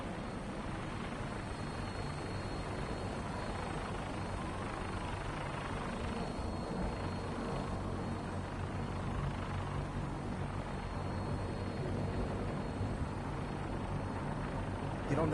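Gunship helicopter in Fallout 4 droning as a steady, loud rotor and engine rumble that holds evenly for the whole stretch, close by, with faint voices now and then under it.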